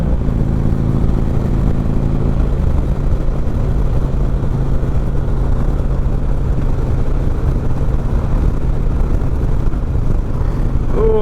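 A Harley-Davidson Road King fitted with an Ultima Dominator 2-1 exhaust rumbles steadily on a test ride, a loud continuous low engine drone close to the microphone with no speech.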